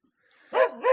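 A dog barks twice at a village homestead, two quick close barks after a faint rising whine, loud and clear with no talk over them.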